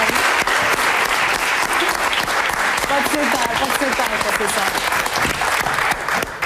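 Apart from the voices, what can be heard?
studio audience applause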